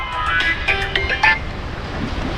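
A mobile phone ringing with an incoming call, a bright melodic ringtone of short repeated tones that fades into background hiss, close and loud, with no talk.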